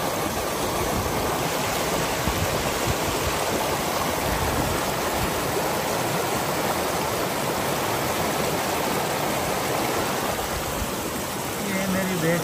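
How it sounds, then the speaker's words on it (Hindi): Mountain stream water rushing down from the slopes of Swat valley, a constant loud roar of flowing water close by throughout. "पहाड़ों से पानी आ रहा है"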